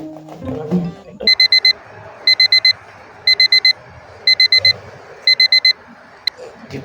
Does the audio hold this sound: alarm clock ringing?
yes